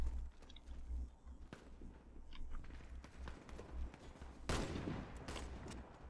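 Gunfire in the Warface video game, with sniper shots among it: scattered sharp cracks over a steady low rumble, with a loud burst near the end and no speech.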